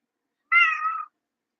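Domestic cat gives a single clear meow, short and close, rising then trailing off in otherwise quiet surroundings.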